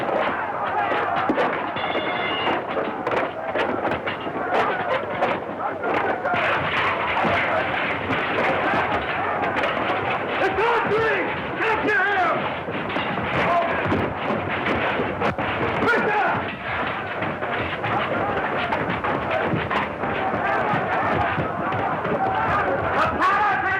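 Battle gunfire in a 1935 film, sharp shots crackling amid a dense, continuous din of shouting voices and commotion, loud throughout with no clear break.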